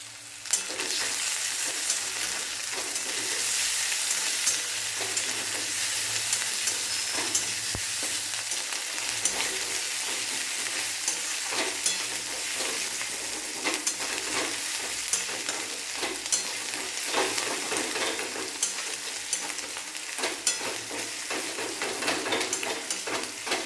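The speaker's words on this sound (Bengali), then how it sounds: "পেঁয়াজ রসুনটা ভাজা হয়ে গেছে এবার দিয়ে দেবো আদা মাটাটা" Onion and garlic fry with ginger paste in a pan for an aloo dum curry, giving a continuous loud sizzle with repeated scraping stir strokes throughout and no talking.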